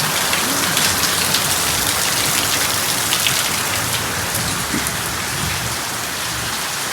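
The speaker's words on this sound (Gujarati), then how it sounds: "અત્યારે ડેલી આપણે એને વરસાદ ચાલુ થઈ ગયો છે" Steady rain falls outdoors, a dense, even patter of drops hitting surfaces that holds at a constant loud level for the whole stretch, with no talking.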